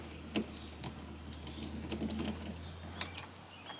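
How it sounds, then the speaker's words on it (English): A T30 Torx driver backing screws out of the door of a 1998–2004 Chevy S10/GMC Sonoma pickup makes quiet, close clicks and ratcheting ticks scattered across a low steady hum, with no talking. "So you're going to need a T30 Torx bit and Torx driver. So we're going to remove these two Torx screws here."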